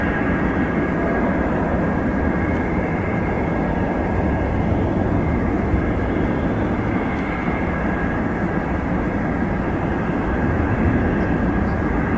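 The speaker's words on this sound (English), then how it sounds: "This DC-9 making a dramatic approach into Anchorage Airport in Alaska." A DC-9 jet airliner on approach into Anchorage Airport in Alaska, a loud, steady broadband engine roar with a faint whine that holds unchanged throughout, with no talking.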